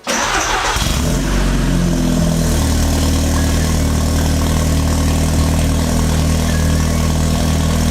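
An Audi TTS Mk2 engine with an aftermarket exhaust cranks and catches, then settles into a loud, deep, rumbling idle with a throaty exhaust note that holds steady, close by.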